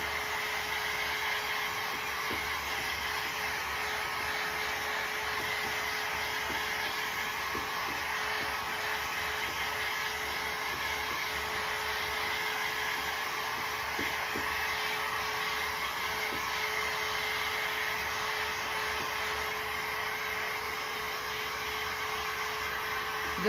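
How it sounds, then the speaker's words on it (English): Steady whooshing roar of a heat gun blowing over craft paper, continuous and even at close range, with a faint steady whine and occasional small clicks underneath. "Let me get my heat gun. And we'll give them a quick dry."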